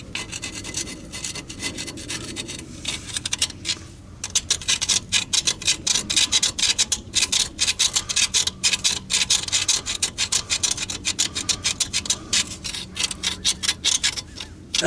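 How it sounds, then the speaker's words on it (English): Hand scraping and rasping with a screwdriver against the crusty front face of a 2008 Chevy Trailblazer wheel hub, a steady run of close, gritty strokes with a brief pause early on. "So I'm just going to scrape it up like that and then take this old wire brush and brush it out again."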